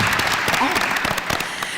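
Applause from a seated audience at a panel event on inclusion, a dense steady patter of many hands clapping at close to moderate distance for under two seconds, with no voices over it.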